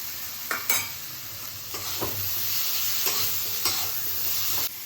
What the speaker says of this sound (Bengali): নাড়িয়ে চালিয়ে টমেটোটা দিয়ে দিই